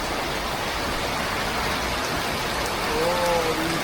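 Heavy rain pouring during a flood, a dense continuous hiss of drops on surfaces, loud and close, with a brief faint tonal sound rising near the end.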